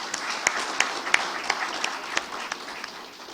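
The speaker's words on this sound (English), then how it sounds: "Can I have a round of applause for my panelists?" Applause from the audience at an international maritime legal conference honors the panel, a moderate room of clapping with a few sharp, distinct hand claps standing out and gradually thinning toward the end.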